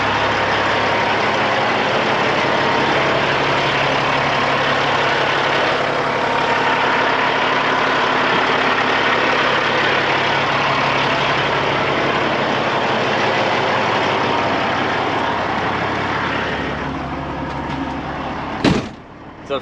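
A 2004 or 2005 Freightliner Columbia truck with a Cat 3406B engine idles with a steady, loud low rumble, then ends in a sharp clunk like a door shutting.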